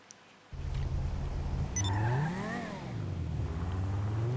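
A Bravado Banshee GTS sports car engine in GTA 5 starts up and idles low, then revs sharply up and back down before settling into a steady rumble.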